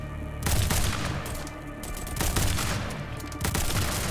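Gunfire attack in the video game Illusionary Peace, heard as sustained loud bursts of rapid shots that swell and return several times across the span, dense and continuous, without speech.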